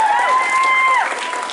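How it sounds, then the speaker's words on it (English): Audience applause and cheering for contestants at the close of an anime convention's stage event, a steady dense wash of clapping heard close and loud, with a voice briefly audible over it. "please give one final round of applause to all our contestants."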